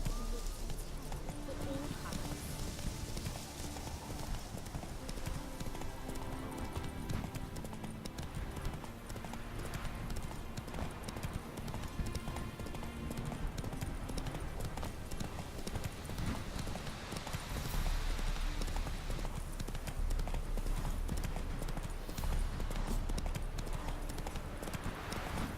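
Roach, the horse in The Witcher 3, gallops with fast, continuous drumming hoofbeats, loud and close throughout, with game voices speaking over parts of it.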